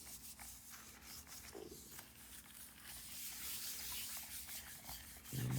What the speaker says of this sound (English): Let me rub this in really well.